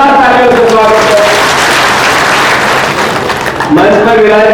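Loud, dense clapping from a crowd at a Congress party rally, filling the space steadily for several seconds, with a voice carrying over the start and end of the applause.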